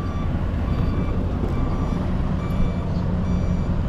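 Trucks waiting at a ferry pier in Matnog, with a steady loud diesel engine rumble filling the scene; reversing beeps are not clearly picked out within the dense, constant noise.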